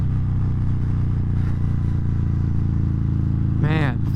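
Harley-Davidson Fat Bob 117 with Stage 3 tuning, a 2019 model, rumbles steadily and loudly throughout while being ridden, its low engine drone holding constant with a brief higher whine near the end.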